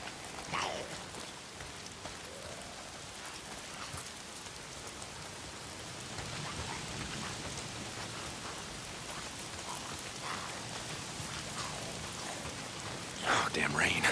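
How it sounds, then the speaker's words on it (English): Rain falls in the video game Days Gone, a steady hiss of downpour with scattered drops on surfaces, continuous and fairly quiet, swelling slightly near the end. "Oh, damn rain."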